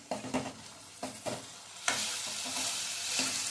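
Dal being sautéed in a hot Marathi tempering (phodni) for ambadi bhaji, with a few scraping stirs followed by a steady close sizzle that continues to the end.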